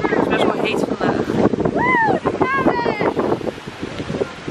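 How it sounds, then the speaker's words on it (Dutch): Strong wind at the beach buffets the microphone in a continuous roar while someone talks over it in Dutch. "Het waait best wel hard vandaag,"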